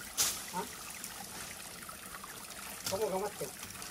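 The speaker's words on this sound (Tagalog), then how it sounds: "Nililinisan ni Ate Rina kasi madumi na po Kakabsat yung daanan ng tubig." Water trickles steadily along a freshly cleared channel at a forest spring, a soft continuous babble with small brighter gurgles near the start and again toward the end, heard close outdoors.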